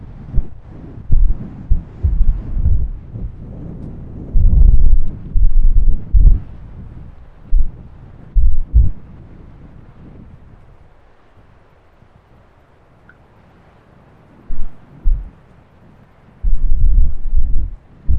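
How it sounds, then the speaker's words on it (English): Gusty coastal wind at Morte Point, North Devon, buffets the microphone in loud, low rumbling bursts that come and go, with calmer stretches between strong gusts. "it's very, very windy"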